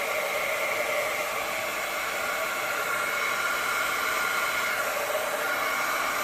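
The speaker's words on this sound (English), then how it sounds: "all I have right now is my heat tool" A heat tool blows hot air steadily over an acrylic pour painting, giving a constant loud hiss-like whoosh with no pauses and no talking.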